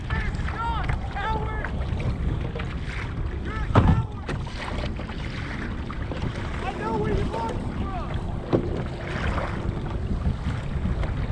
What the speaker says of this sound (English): We're getting mowed down by a boat